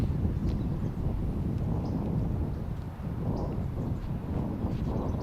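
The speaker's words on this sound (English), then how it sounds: "So windy, Simon had to go backwards hat" Strong gusting wind roars across an open outdoor disc golf course during a tournament round, a steady loud rush that dips briefly midway.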